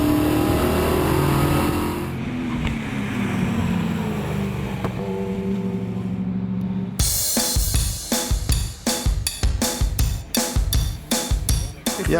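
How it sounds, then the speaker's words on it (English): A Pontiac Firebird V8 race car styled after Jerry Titus's Trans Am cars, at a historic V8 racing event, rumbles at low idle, then bursts into loud repeated revs in a choppy rhythm, close by with no talk. "His Firebird visually corresponds to race cars of the famous American Trans Am champion Jerry Titus."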